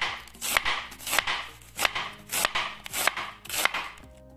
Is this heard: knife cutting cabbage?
yes